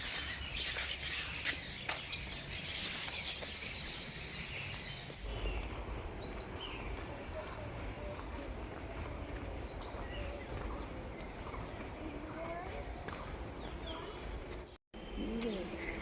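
Birds calling outdoors on a North Bengal countryside trip, scattered chirps and short calls at moderate distance over steady ambient noise, with a brief dropout near the end.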